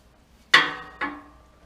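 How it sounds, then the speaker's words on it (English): Shotgun blasts at a clay pigeon shooting range, heard from inside a tent: two sharp, moderately distant reports about half a second apart, each with a short decaying tail, and no talking. "And yes, the noise you can hear is guns."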